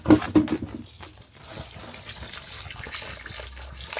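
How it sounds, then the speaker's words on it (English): Water pours from a watering can onto the soil around tomato roots, a steady splashing trickle heard close up, louder and more broken at the start before settling into an even flow. "Let's keep the water down around the roots."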